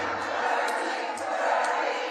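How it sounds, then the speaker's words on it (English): A rally crowd roars and cheers as Senator Bernie Sanders takes the stage, a loud continuous mass of voices with a few sharper shouts rising out of it. "listen to how the crowd erupts for him"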